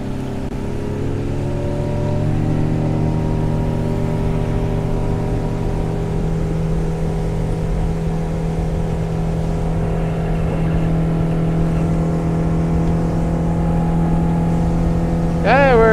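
A Yamaha 115 outboard on a 1987 Arima SeaChaser 17 boat runs up to full throttle at around 6,000 RPM. The steady engine drone rises in pitch and holds loud and close, with wind and water noise underneath.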